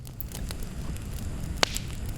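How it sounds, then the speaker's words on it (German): A small campfire on a beach in the early evening crackles quietly over a low background rumble, with sparse soft snaps and one sharp pop. "dem Geknister eines kleinen Lagerfeuers"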